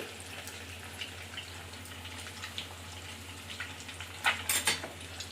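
Curry leaves hiss and crackle in a pan of frying egg and goat brain, a faint steady sizzle that briefly flares louder near the end.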